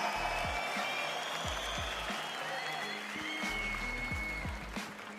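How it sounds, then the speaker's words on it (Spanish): Loud applause from the crowd at a national freestyle rap battle final in Chile, a continuous broad wash of clapping and cheering with deep thumps of bass music pulsing underneath throughout. "Aplauso fuerte, tercer y cuarto lugar."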